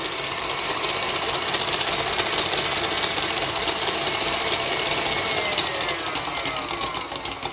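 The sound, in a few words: electric mixer beating meringue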